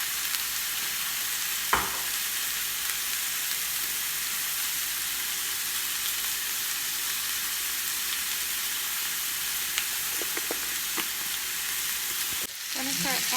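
Onion fries in a pan with Worcestershire sauce and bay leaves, giving a loud, continuous, even sizzle throughout, broken by a few brief clinks and a utensil knock near the end.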